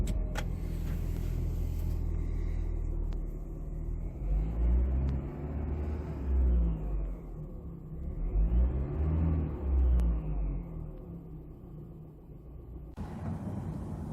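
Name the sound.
2017 Volvo V60 T4 driving on road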